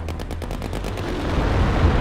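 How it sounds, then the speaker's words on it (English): A gun run strafes the ground in a wargame video game: rapid automatic gunfire rattles in quick bursts, then swells into a loud, continuous rumbling roar. "Calling another gun run."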